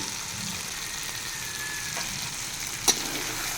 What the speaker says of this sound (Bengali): তারপরে ভালো করে মশলাটাকে কষিয়ে নেবো